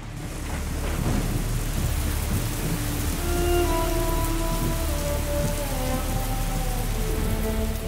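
Monsoon downpour in the Himalayas pours steadily as a dense, even roar of rain, while low rolling thunder rumbles through the storm, with no voices present.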